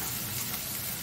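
Tadka masala hits hot oil for egg tarka, giving a continuous loud sizzle and hiss with no speech over it.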